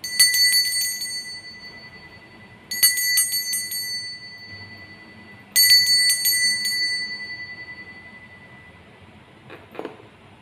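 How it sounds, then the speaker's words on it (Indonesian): A small bright bell struck three times, each ring sharp and loud then fading slowly, with a faint quieter chime near the end. "Kita akan lanjutkan dengan ditandai lonceng berbunyi."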